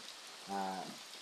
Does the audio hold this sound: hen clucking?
no